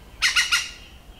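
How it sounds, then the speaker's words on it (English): A green woodpecker gives its yaffle call outdoors on a golf course, three quick loud laughing squawks in a row, fairly close and clear. "The green woodpecker is often seen around the course and has a distinctive yaffle."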